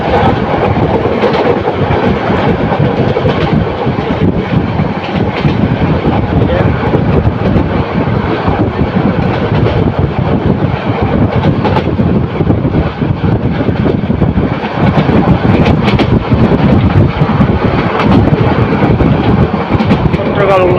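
The Mohanagar Provati Express runs toward Bhairab Bazar junction, a loud, unbroken roar of wheels and carriages heard close up from on board, with voices faintly mixed in.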